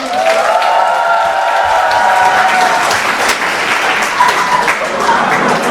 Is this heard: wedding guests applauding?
yes